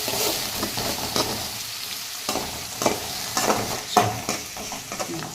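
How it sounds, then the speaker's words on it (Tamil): Tomatoes and onions sizzle in hot oil in a pan while being stirred for a Tamil tomato gravy, a steady close frying hiss broken by soft scraping stir strokes. "தக்காளியும் வெங்காயம் போட்டாச்சு. இதை நல்லா வதக்கிடுவோம்."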